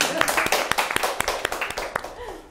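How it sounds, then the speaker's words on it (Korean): A small audience at a talk on a community law gives a round of clapping, a series of distinct, fairly sparse hand claps that fade over about two and a half seconds, with a voice talking briefly over them. "역시 박수 한번 쳐야 될 것 같아요"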